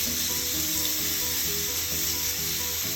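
Homemade kebab meat fries in a pan with a steady, dense sizzle that holds evenly throughout, close and moderately loud, with no talking.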